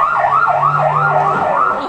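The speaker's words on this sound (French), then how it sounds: "l'ambulance démarre un tout petit peu trop vite" An ambulance siren wails in a loud, rapidly rising and falling cycle, repeating several times without pause as the vehicle starts off.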